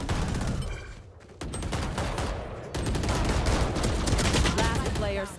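Gunfire in a Valorant round: dense, rapid shots rattle in bursts through the clip, loud and close, mixed with game sounds and brief breaks in the firing.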